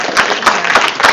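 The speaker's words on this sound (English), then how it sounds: "can we give our panel one more round of applause?" Audience applause for a panel discussion at a campaigns and elections event: a steady, dense clapping crowd with several louder surges, with no voices over it.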